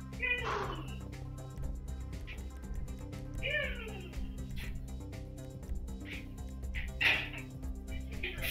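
A cat meows several times in a room with a low steady background hum, the calls near and clear.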